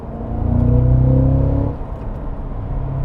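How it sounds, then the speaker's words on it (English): The supercharged LT4 V8 of a Cadillac CT5-V Blackwing accelerates hard, climbing in a loud, close roar for about a second and a half before backing off to a lower rumble; no one speaks over it. "I hope you can hear that, because that is the sound of an LT4."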